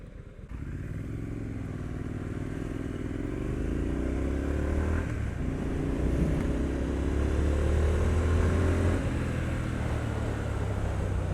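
A 2020 Triumph Street Scrambler with a 900cc engine rides along, its steady twin-cylinder drone rising gently as it accelerates, fairly faint with wind noise and no talking.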